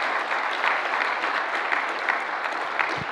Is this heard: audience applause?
yes